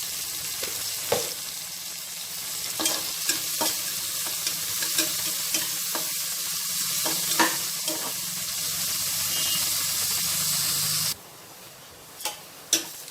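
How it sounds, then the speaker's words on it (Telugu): Onion pieces with salt frying in a pan for mutton curry give a steady close sizzle, punctuated by spatula taps and stirring scrapes, before the frying drops away near the end, leaving a few faint knocks. "ఇలా మంచిగా బ్రౌన్ కలర్ వచ్చే వరకు ఫ్రై చేసుకోవాలి ఉల్లిపాయల్ని"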